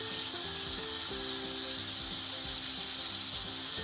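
A hot pan holding a chili omelette sizzles loudly as chili sauce goes in, a constant close frying hiss with a faint low hum beneath and no voices.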